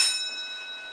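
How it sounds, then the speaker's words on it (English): A single strike of a signal box block instrument bell for the main line at Banbury North signal box, a bright metallic ding with a ringing tone that decays slowly over a second. "So, the main line is this bell."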